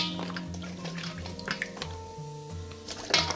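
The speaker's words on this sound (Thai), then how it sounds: "หลังจากผ่านไป20นาทีแล้วนะคะเราก็จะนำไปทำความสะอาดล้าง" Soaked pumpkin pieces rinsed under running water, with splashing, dripping and handling clatter close by, uneven and continuous with no talk.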